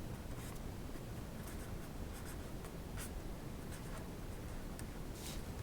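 Pen or marker scratching steadily across a writing surface while an equation is written out, a quiet, continuous scribble with small strokes and ticks and no talk.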